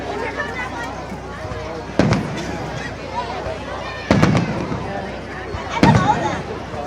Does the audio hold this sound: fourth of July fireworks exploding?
yes